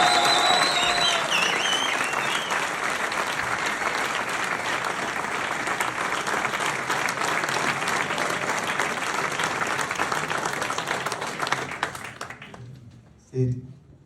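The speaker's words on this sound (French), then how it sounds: "On peut l'applaudir bien fort." Loud, sustained audience applause from a large crowd fills the space for about twelve seconds, dense and steady before fading out, with a brief thump at the end.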